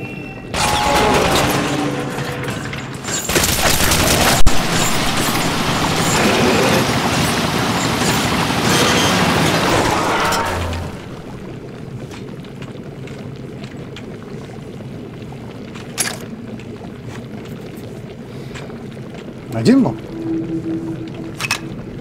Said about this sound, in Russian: пушка, стреляющая ледяной водой